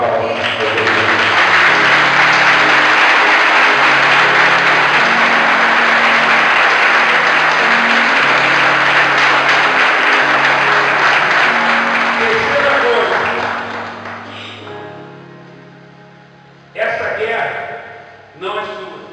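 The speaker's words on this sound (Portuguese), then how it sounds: "Aplausos a Deus." A church congregation bursts into loud, sustained applause during a worship campaign service, the clapping dense and full before fading out, followed by short renewed bursts near the end.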